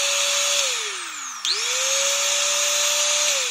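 A 1,200-watt Keelat palm router wood trimmer test-run with no load: a loud, steady high-pitched motor whine that dips briefly as it drops in speed, then spins back up and holds.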